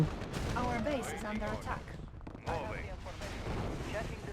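Gunfire and explosions in Yuri's Revenge, the Red Alert 2 expansion, crackle in dense repeated bursts over the battle, with someone talking excitedly over much of it.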